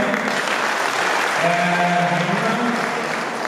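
An audience at a youth awards ceremony claps steadily and fairly loudly for several seconds, a dense, even applause with a faint voice or tone briefly rising over it.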